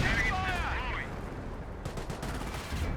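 Fire from a British 25-pounder field gun in Company of Heroes, a whistling shell sweeping down early, then a run of sharp blasts and cracks in the battle's background, with a voice talking.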